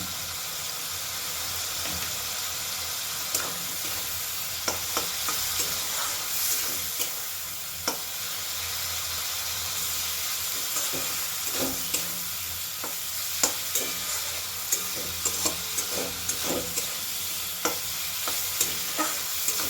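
Prawn curry ingredients with slit green chillies and a little sugar are sautéed in a pan, with a steady sizzle and repeated sharp scraping stirs throughout, close and without talking.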